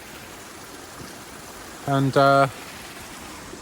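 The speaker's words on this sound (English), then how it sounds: "first time I've ever seen water running down this little stream here." A small mountain stream near the Font des Prat, on a hiking route to the Tossals Verds refuge, gives a steady, hissing trickle that runs throughout, with a voice briefly speaking over it midway.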